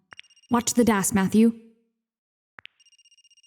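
A telephone rings in the video game Another Code: Recollection, with short electronic double trills at the start and end and a steady tone between them, while a voice speaks over the middle.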